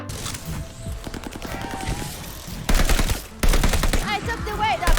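Gunfire in the shooter game Call of Duty Vanguard, as firing moves from indoors to outdoors: bursts of rapid automatic shots, with a quieter rattling stretch giving way to loud, sharp volleys in the second half.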